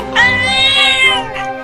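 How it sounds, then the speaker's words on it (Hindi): A single loud cat meow, long and rising, rings out up close in an animated comedy about a cat and a bicycle. "ये मियाऊ क्या है?"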